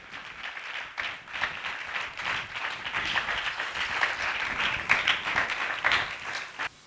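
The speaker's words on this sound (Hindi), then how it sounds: "पुत्र परमेश्वर के लिए ताली बजा के धन्यवाद करें" A church congregation claps in thanks during a worship service, a sustained burst of many hands clapping loudly together with a slight swell near the end, and no speech over it.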